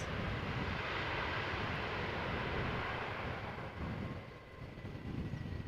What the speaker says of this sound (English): that was the loudest landing, or the loudest arrival we've heard so far